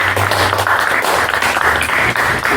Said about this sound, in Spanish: Y quiero darle un aplauso a la gente del banco con ustedes.